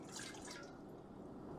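Water trickles and drips into a standard mixing bowl holding dough ingredients, a faint splashing that fades after the first moment into quiet room noise.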